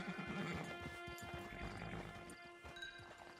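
A horse in Red Dead Redemption 2 neighs and whinnies while hooves clip-clop close by, over a steady bed of game music and ambience.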